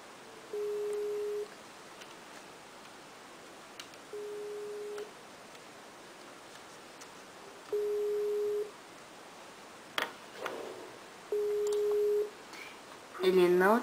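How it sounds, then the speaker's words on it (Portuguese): Repeated outgoing phone call tone, steady beeps of about a second each recurring every few seconds against a quiet background, with a brief rustle near the end. "ligar para o seu amigo até ele atender"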